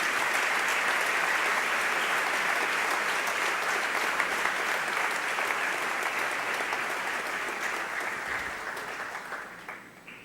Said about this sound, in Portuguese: Vamos dar uma linda salva de palmas para Jesus e agradecer a Ele.